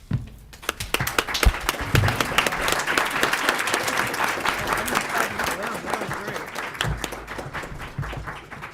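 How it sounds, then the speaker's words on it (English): Sustained applause from a large audience fills the room, dense clapping that swells early and holds steady before tapering slightly near the end. "please join us in a round of applause for our Joliet Township High School Board of Education."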